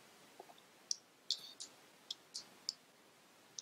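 About a dozen sharp, quiet mouse clicks tap out in an irregular rhythm against a faint background hush.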